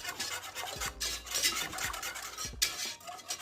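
A spoon stirs half a cup of heavy whipping cream into creamy Southern-style mac and cheese in a pot, giving repeated scraping and sloshing strokes with clinks against the pan, close and steady, with no talking.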